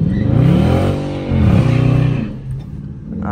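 A Dodge Charger R/T drifts nearby, its engine revving in two loud, swelling surges with a rising and falling pitch before fading and dropping away.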